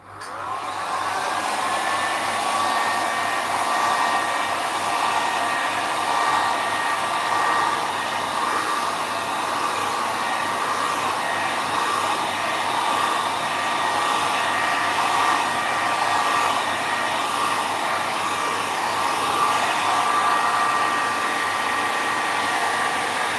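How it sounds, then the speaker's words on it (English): A hair dryer blows steadily at close range, drying an alcohol ink painting; a continuous loud whir with a high whine runs unbroken from start to finish, with no talking. "So I'm just going to dry it off a little bit."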